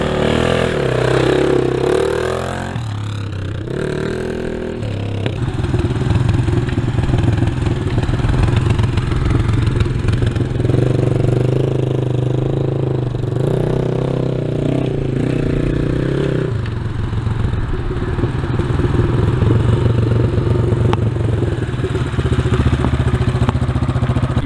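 A Rockot Firestorm enduro motorcycle engine runs steadily at close range for about 25 seconds, a continuous loud mid-pitched drone with some rises in revs and mechanical clatter, no talking over it.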